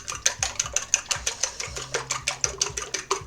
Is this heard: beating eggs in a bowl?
yes